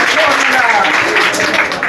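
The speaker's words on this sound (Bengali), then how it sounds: "এইবার মেয়েরা করতালি দেবে পুরুষদের উদ্দেশ্যে জোরে।" A women's audience applauds in a dense, loud wash of clapping, with voices calling out over it.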